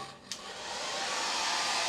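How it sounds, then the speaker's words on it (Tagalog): A hair dryer in a Novotel Citygate Hong Kong hotel room switches on with a click and runs as a steady, close, whooshing hum that holds at an even level. "So ito yung ating hair dryer."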